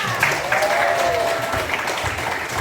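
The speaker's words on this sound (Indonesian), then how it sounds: "Aplaus dulu untuk Aksa." Classroom applause for a student, a steady burst of clapping from a group of pupils, fairly close and continuous for a few seconds.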